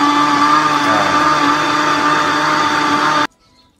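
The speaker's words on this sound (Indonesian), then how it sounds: "ini sekarang kita blender sampai halus" Loud, steady whir of a kitchen blender puréeing radish for Medan radish cake until smooth, running continuously alone before cutting off abruptly.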